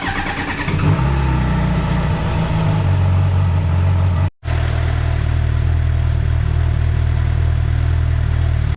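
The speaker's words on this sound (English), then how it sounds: "You're going to want to start the bike up and run it, get the oil nice and warm so that it comes out more quickly." A 2016 Suzuki GSX-R 750 motorcycle is started, then its engine runs steadily to warm the oil, with a loud, continuous mid-pitched drone and a brief cut near the middle.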